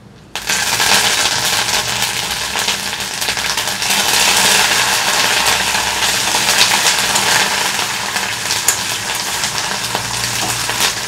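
Curry leaves and peanuts frying in hot oil for mamidikaya pulihora, a loud steady sizzle and crackle that starts abruptly and continues without pause.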